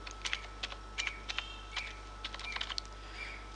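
Text being typed on a computer keyboard in Microsoft Word: light, clicky keystrokes in uneven bursts over a steady low electrical hum, close and alone.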